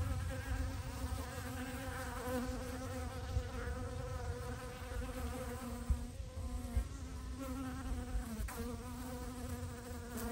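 Honey bees buzz near their hive, a dense droning hum from many insects that is steady and close, with no talking over it.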